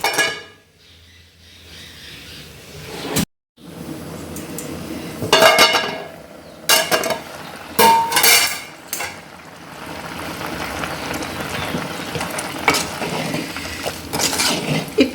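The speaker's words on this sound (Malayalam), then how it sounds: "നമുക്ക് ഇടയ്ക്കൊന്ന് ഇളക്കി കൊടുക്കണമേ" A spoon scrapes and clinks against a metal pot while mango curry with cinnamon is stirred, the irregular clatter coming in close bursts between quieter stretches of faint sizzling.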